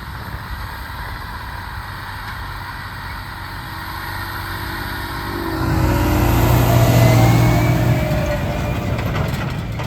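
A Fendt 313 tractor with a Vario transmission and wide tyres, driving across a wheat field: a steady engine drone that swells louder midway as it picks up speed, with a rising whine and some voice underneath.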